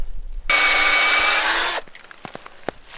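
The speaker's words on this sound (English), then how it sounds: "I'm going to drill slightly upwards" A power drill bores a tap hole slightly upward into a living birch tree outdoors, a loud steady whir of about 1.3 seconds that stops abruptly, followed by quieter handling clicks and bumps.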